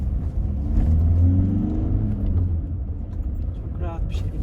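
A car pulls away in second gear up a steep ramp, its engine rumbling close and steady under light throttle for a few seconds, with a person talking over it.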